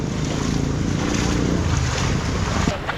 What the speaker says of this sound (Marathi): हे बघा बाईक जाते त्याच्यावरून समजत असेल तुम्हाला